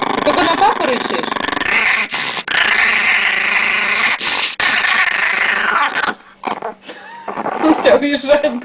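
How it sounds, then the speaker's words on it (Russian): A pet dog growls low and steadily at home while people talk over it, the rumbling broken by brief pauses and a few sharper sounds near the end. "Ты только на папу рычишь?"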